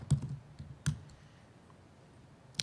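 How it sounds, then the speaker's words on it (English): Typing on a MacBook keyboard: a few sharp, close key clicks, two at the start and one at the end, separated by quiet room tone. "Typing is hard on a MacBook."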